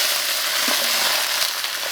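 Duck pieces stir-fry in hot oil in a wok with a steady, dense, close sizzle that holds evenly throughout, and no one speaks over it.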